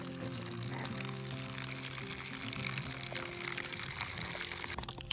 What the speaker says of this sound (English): so we're gonna fill this up